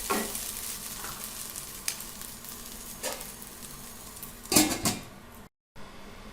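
Potato and French bean sabzi fries in a pan with a steady sizzle, broken by a few scraping stir strokes of a spatula and one louder clatter before a brief silence.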